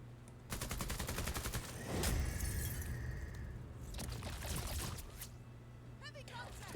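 Gunfire in a tactical video game from the WayBack Menace series, a couple of loud bursts with shattering, debris-like crackle over a steady game background hum.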